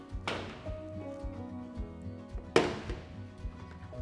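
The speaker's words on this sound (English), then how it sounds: "you just unclip the tank screen" A clip-on water tank screen is unclipped, giving two sharp plastic snaps about two seconds apart over faint low handling noise.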